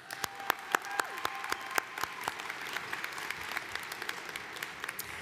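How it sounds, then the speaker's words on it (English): An audience at a 2023 commencement ceremony applauds graduating seniors, with sharp individual claps over a steady bed of clapping that fades slightly, heard from a distance in a large hall. "Let us applaud the accomplishments of all of those graduating seniors of the Open Academy."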